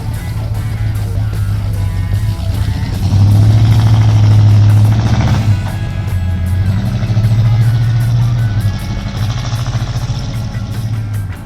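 A 1970 Chevrolet C10 pickup truck drives away, its engine a steady low rumble that swells in two louder surges as it pulls off, with no talking.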